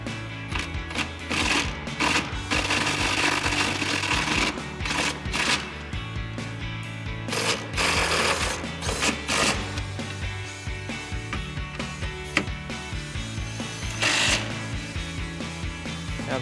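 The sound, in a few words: impact wrench with 13mm socket tightening bolts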